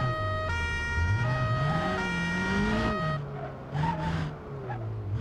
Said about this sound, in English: they let me deliver a police car, so I had to play around with the siren